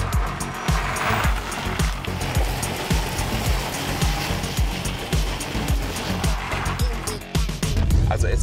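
A car runs a test lap with its engine and road noise steady and loud throughout, and rhythmic thumps from the suspension repeat over the bumps. Faint talk is partly masked by the drive.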